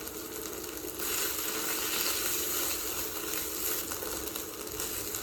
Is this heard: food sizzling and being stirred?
yes